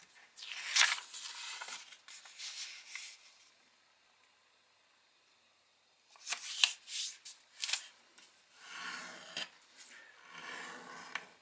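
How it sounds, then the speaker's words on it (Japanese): Origami paper being folded in half, crisp rustling and creasing scrapes in close bursts, a quiet gap, then several more sliding and crinkling passes with no talk. "半分に折ります。"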